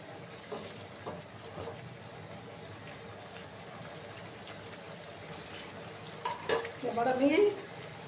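Vegetable stems for a traditional Bengali data chasni are stirred and mixed in a pan: a soft, steady sizzle with occasional scraping knocks that grow louder and busier near the end.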